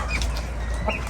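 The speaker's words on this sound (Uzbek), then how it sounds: "O'rtoqlar xo'roz bor" A heavy rooster of about four kilograms calls out close by in one short, loud burst of crowing and clucking.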